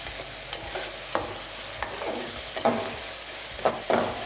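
Ginger-garlic paste and green chillies fry in a pan for chicken liver masala while a spoon stirs them, making a steady sizzle broken by several distinct scraping strokes, close and moderately loud, with no talking.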